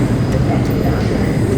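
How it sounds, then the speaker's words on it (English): A subway train rushes past on an underground platform, a dense, loud, steady roar and rattle filling the short moment without any break. "I'm not sure if that was my train or not, so I just let it go by."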